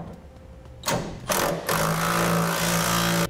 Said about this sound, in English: Now I'll use the 3/4 inch socket and tighten up the nut